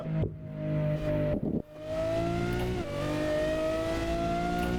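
A car engine in the racing game Assetto Corsa revs and holds a high whine, briefly dropping off before climbing again with rising pitch; loud, close and continuous.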